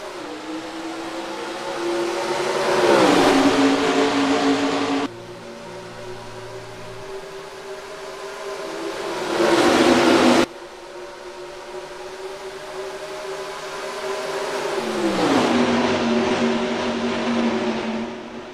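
Race trucks in NASCAR Racing 2003 accelerating from the green flag at Rockingham, engines rising in pitch in repeated waves as the view cuts between trucks, loud and steady with no speech.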